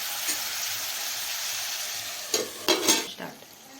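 Chicken cooks in a pan, giving a continuous dense frying sizzle like light rain throughout, followed near the end by a few louder clattering knocks of the lid or a utensil against the pan; no talk.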